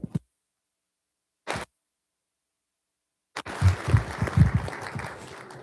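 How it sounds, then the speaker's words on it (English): Board of trustees meeting audience applauding, a couple of isolated clicks and pops followed after a silence by a burst of moderate clapping from a small group that fades slightly toward the end. "round of applause for Greg."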